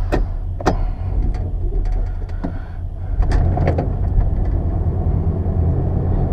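A 1989 Chevrolet C/K 1500 4x4 step-side pickup shifts from park into reverse, with sharp mechanical clicks and clunks from the shifter over a steady low rumble inside the cab.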